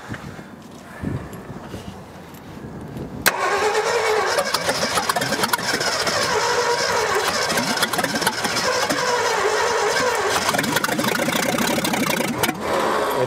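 A 1965 Ford F100 pickup, long buried and forgotten, cranks and then catches, settling into a rough, loud, steady idle that runs close by for several seconds.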